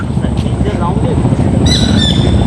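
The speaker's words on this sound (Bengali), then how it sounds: "পাখির ডাক দিতেছে মনোমুগ্ধকর" Birds in the coastal Sundarbans forest at East Dhalchar call at dusk with short chirps and squawks, moderately distant, over a constant low rumble.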